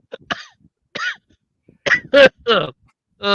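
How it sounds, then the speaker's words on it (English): A man coughs after laughing on a pro wrestling podcast, a few short separate bursts and a throat-clearing sound standing alone and close, with no talk around them. "I just started to cough when I laughed"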